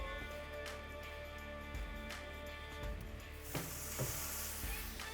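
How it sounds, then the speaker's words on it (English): Big beef ribs and short ribs sizzling over indirect heat around 300 degrees on a Hasty Bake grill, a steady close crackling hiss with scattered sharper pops and spits, uninterrupted by talk. "I love to hear that sizzle,"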